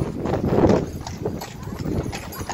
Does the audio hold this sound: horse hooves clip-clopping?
yes